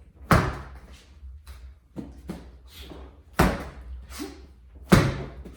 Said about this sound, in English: So I'm not tapping it on the floor. I'm throwing it on the floor.